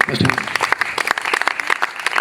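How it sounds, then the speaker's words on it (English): Audience at a school youth parliament event giving a round of applause, loud and close with distinct individual claps in an uneven rhythm, a brief voice at the start. "So all of you give big round of applause to him."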